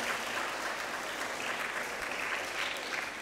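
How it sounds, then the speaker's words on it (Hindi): A church congregation at a Confirmation service claps loudly and continuously, a dense even wash of applause throughout. "तो उनके लिए भी जोरदार तालियाँ बजाइए।"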